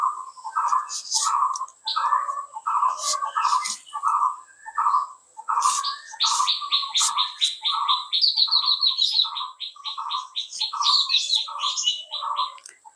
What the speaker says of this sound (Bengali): পাখিদের ডাক শুনেছেন?